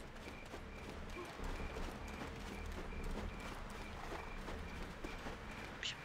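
Horse hooves clip-clopping in a steady running rhythm in the online role-playing game Black Desert Online, faint and continuous under game ambience.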